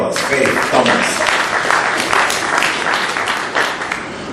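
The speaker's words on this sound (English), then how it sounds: "Give her a round of applause" Audience applause rings out for Faith Thomas at the Heal our Land 2017 gathering, a dense, steady wash of clapping from a crowd that holds for several seconds, with faint voices mixed in.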